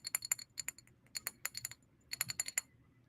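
Brown glass skincare bottle with a vacuum pump handled up close in quiet, producing bursts of crisp clicks, taps and light glassy clinks in irregular clusters, with soft rustle beneath.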